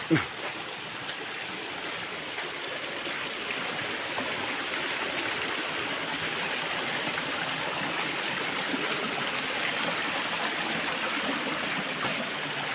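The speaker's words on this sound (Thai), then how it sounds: "น้ำจะตกลงมาแบบนี้ครับนะ สวยงาม" Waterfall at Huai Pa Phlu in Phrao, Chiang Mai: a steady, broad rush of falling water that stays close and even throughout, with no speech over it.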